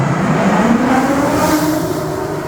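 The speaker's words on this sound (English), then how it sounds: "This is where the car is gonna come out. The roller coaster, I should say." A roller coaster car rushes out of a tunnel at an amusement park in Barcelona, a loud, sustained mechanical roar and rumble that swells and then eases slightly as it passes.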